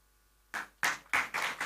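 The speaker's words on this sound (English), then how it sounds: "Good, nice claps." A few scattered claps from a conference audience, starting after a quiet moment and coming in four or five separate bursts that grow slightly fuller.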